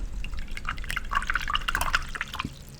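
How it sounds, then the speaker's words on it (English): A paintbrush swished and rinsed in a water container, giving a close cluster of small splashes and drips that peaks midway, with a dull knock near the end. "So I'm going to rinse my brush out."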